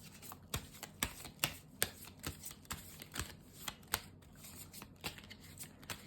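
A tarot deck is shuffled to draw an advice card, making a steady run of crisp, close card slaps and riffles at a quick, even rhythm, fairly soft and with no talk over it.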